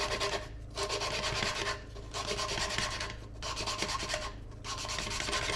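Lapping a valve into its seat on a Kubota diesel tractor engine, a rhythmic gritty rasping rub repeated in back-and-forth strokes, close up with no speech.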